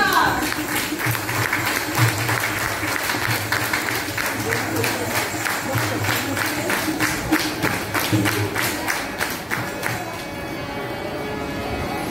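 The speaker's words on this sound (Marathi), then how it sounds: "टाळ्या" A group claps steadily and rhythmically after a fugdi dance at a Mangalagaur celebration, loud and even for about ten seconds before easing, with voices mixed in.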